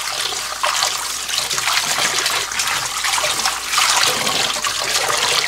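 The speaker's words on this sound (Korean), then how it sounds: "채에 받쳐서 물기를 조금 빼주겠습니다" Water drains from freshly rinsed young radish greens sitting in a sieve, a steady close trickle and splatter that runs through the whole stretch.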